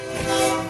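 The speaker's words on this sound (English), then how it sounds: "hit the train horn" A loud, sustained train horn blast, played as a studio sound effect on a live radio show, sounds as one brief, steady chord with no talk over it.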